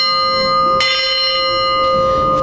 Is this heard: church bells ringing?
yes